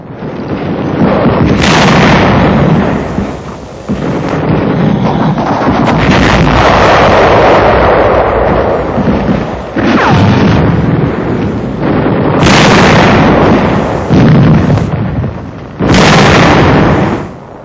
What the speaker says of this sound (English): The tank suffers a direct hit, and the crew leaps from the flames.